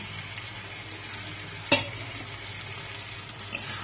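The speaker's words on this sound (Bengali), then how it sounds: "দিয়ে এটাকে ভালো করে আমি একটু কষিয়ে নেব" A paste of ground ginger, garlic, green and ripe chilies and cumin fries in a pan for a chanda fish curry. It gives a continuous soft sizzle, with one sharp stirring clatter midway and a fainter scrape near the end.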